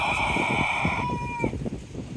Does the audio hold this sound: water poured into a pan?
no